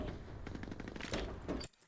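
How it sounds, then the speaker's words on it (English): Rapid bursts of gunfire from an online shooter game on the Armory map, dense overlapping shots filling the clip before cutting off abruptly near the end. "Now we hear gunshots at 1 minute"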